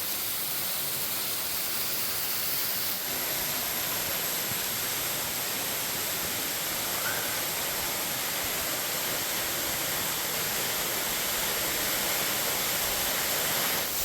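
Steady, loud rush of a busy tourist waterfall heard from behind the falling water, a dense broadband roar with no pauses and no voices.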